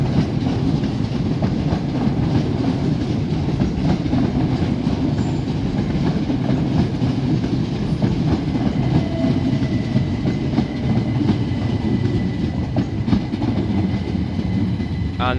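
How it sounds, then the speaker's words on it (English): A Class 387 electric passenger train, coupled as two units, rumbles into Lewes station with steady clickety-clack of wheels over rail joints and faint squeals, loud and continuous with no talk. "And approaching now is another train"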